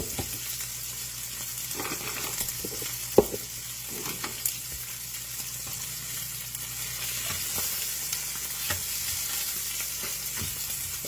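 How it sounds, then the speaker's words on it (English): Steaks frying in a flat-bottomed pan with butter, diced onion, rosemary and a little barbecue sauce, giving a steady close sizzle and hiss throughout with a few soft clinks and stirring knocks. "Big thing with frying steaks, you want a flat bottom frying pan"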